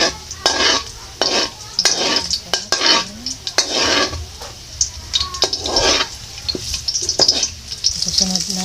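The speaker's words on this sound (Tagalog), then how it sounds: "lagay po natin ang mantika. Igisa po natin ang bawang." Garlic sautés in hot cooking oil in a pan while a metal utensil stirs and scrapes it in rhythmic strokes over a steady sizzle. Someone speaks at times between the clanks.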